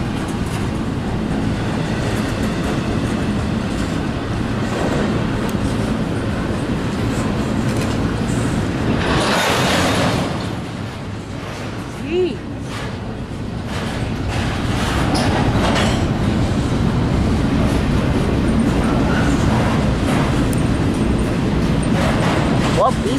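An eastbound freight train rolls past in Chesterton, Indiana, a loud, steady rumble of rail cars with clattering wheels that dips briefly and then resumes, with voices talking nearby.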